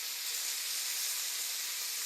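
Steaks for steak Diane sizzle in a frying pan, an even, continuous hiss with no break and no talking over it.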